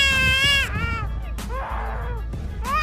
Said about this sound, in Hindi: Black collar starling. इस पक्षी की आवाज सुनने पर ऐसा लगेगा जैसे कोई छोटा बच्चा जोर जोर से रो रहा हो।